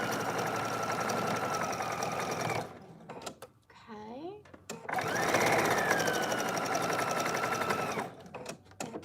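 Sewing machine stitching the lining of a shift dress, running steadily for nearly three seconds, pausing while a voice speaks, then running again at length before stopping.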